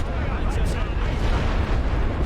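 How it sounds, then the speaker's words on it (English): Mortar explosions in The Great War: Western Front rumble as a dense, continuous roar of battlefield blasts and heavy fire, loud and sustained with no clear gaps, and a voice talks over it. "2 mortars giving us trouble."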